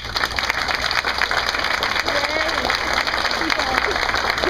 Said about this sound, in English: So can we just give another big round of applause for everybody?